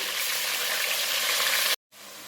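Chicken pieces sizzle loudly in oil in a karahi over a high flame, a dense, steady frying hiss that cuts out briefly near the end, then returns slightly quieter.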